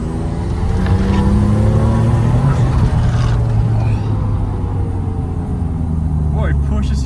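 Twin-turbo V12 Toyota Supra of roughly 1000 hp pulling hard in third gear, a steady loud engine drone heard from inside the cabin, with people talking over it.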